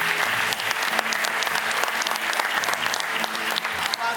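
Loud, dense applause from a large theatre audience at Teatro Don Bosco in Caserta, steady clapping filling the whole moment with no voices over it.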